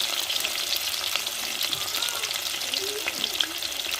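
Sliced onions sizzle in hot oil in a pan for a dried fish curry, a steady close frying crackle with a few light stirring scrapes and no clear talking.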